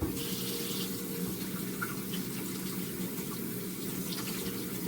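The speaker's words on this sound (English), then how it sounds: "Now we're going to take this pepper and wash it off." Kitchen tap running steadily into a sink while a pepper is washed under the stream, a constant close hiss of water with faint splashing changes as the pepper moves.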